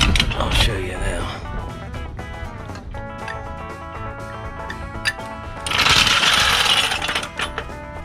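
An impact wrench tightens the lug nuts on a trailer tire in a series of mechanical bursts, loudest near the end, mixed with a steady background hum and nearby clatter.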